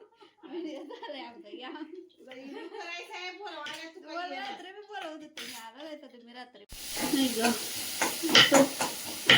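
Someone speaks for several seconds, then a loud burst of sizzling erupts as tempering spices hit hot oil for cluster beans, and keeps crackling to the end.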